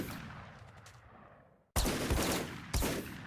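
Turret firing in a Minecraft tech turrets mod: two loud, sharp shots about a second apart, each fading out after a quieter stretch of ambient noise.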